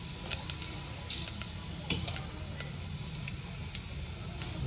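Cumin seeds sizzling in hot oil in a pan, a steady crackling fry hiss with scattered sharp pops, close and fairly quiet, with no talking.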